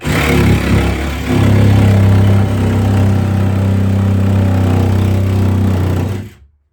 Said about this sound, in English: Drilled the corner holes with the 1/2-inch drill bit.